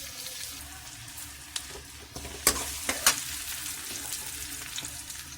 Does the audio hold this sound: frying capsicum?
yes